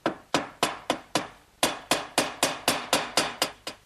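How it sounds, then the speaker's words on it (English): A hammer drives glued quarter-inch hardwood dowels into pre-drilled holes, about a dozen sharp, close strikes in a steady rhythm with a short pause after the first few. "Take these little quarter inch dowels and just put a little bit of glue on them. And then drive those in through my pre-drilled holes."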